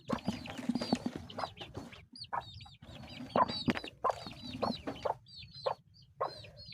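Chicks on a poultry farm in the rainy season give repeated high, bright peeps and soft clucks in quick, uneven bursts, heard close by with no talking.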